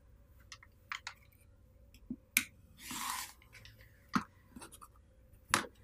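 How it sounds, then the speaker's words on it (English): A rotary or straight blade cuts quilt fabric along a long ruler, giving several short, sharp ticks and scrapes spread unevenly, with one longer hiss of sliding in the middle, close and fairly quiet with no talk. "take your long ruler, and you're going to cut down the center"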